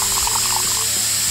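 Liquid is poured into a container during a chemistry-style mixing of substances, making a short, close, continuous splashing trickle with no talk over it.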